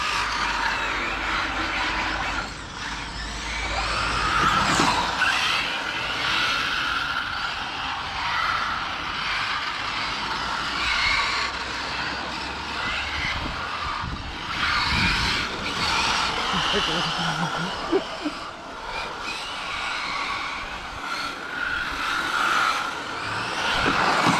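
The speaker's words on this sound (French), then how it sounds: "Mais chez moi les pneus ils cuinent, mais je crois que c'est sur la carreau en fait." Serpent 811GT LWB nitro-style RC car with a 1500kv motor on 8S batteries, its tires squealing and skidding on a tile floor over a steady whining drive; people talk throughout.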